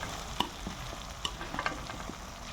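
Okra gravy with yogurt stirred through it is moved around a pan on a low flame. Gentle scrapes and a couple of light taps sound over a quiet simmering sizzle, with no talking.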